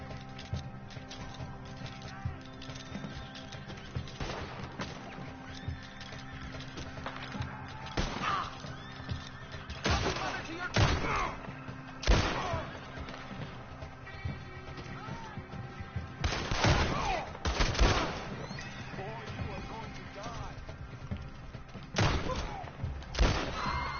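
Gunfire in the Western video game Red Dead Online: repeated sharp shots and heavier booms at irregular intervals over a steady game ambience, with a few louder blasts clustered in the middle and near the end.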